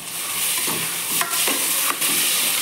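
Tomatoes fry in a pan for a vegetable rice dish, a steady close sizzle with two sharp spoon scrapes and clinks as they are stirred.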